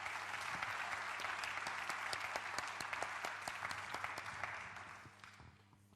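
Audience applause at a BACARDÍ Legacy event, sustained clapping from a crowd that carries steadily for several seconds before thinning and fading out near the end.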